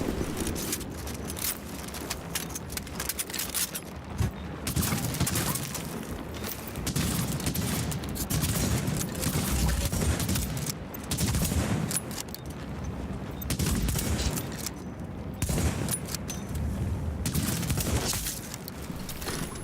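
Gunfire from an M44 rifle in The Division survival mode, sounding as repeated sharp shots and bursts over a continuous rumbling game backdrop across the whole stretch, with no talking.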